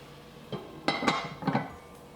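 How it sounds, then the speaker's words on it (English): A lid set onto a cooking pot in a home kitchen, with a soft knock and then a few quick metallic clinks and rattles as it settles, close and fairly quiet. "I'm going to put the lid on and just let them cook for a couple of minutes."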